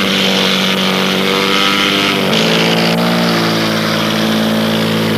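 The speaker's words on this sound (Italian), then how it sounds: "lo Zlin 50 è un velivolo di costruzione cecoslovacca, è un aereo tutto metallico e monta un motore da" A Czechoslovak all-metal Zlin 50 aerobatic airplane with a 260-horsepower engine at a national aerobatics competition, its engine a loud, steady, close drone with a pitch shift partway through, with no talking.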